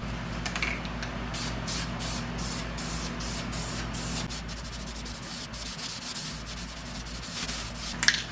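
Duplicolor aerosol primer hissing from a spray can onto a car part in repeated short passes, a rhythmic pulsing spray close by, ending with a small clack.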